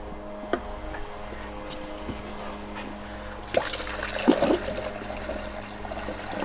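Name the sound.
water poured into car radiator, Spec Miata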